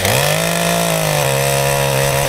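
A SEESII 8-inch mini chainsaw runs loud and steady at close range, its motor drone holding an even pitch that shifts slightly partway as the chain bites into wood.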